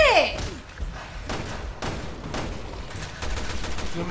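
Gunfire in the game Resident Evil: Revelations 2: a rapid string of loud, sharp shots and thuds cracks out in irregular bursts, with a sweeping tone at the start.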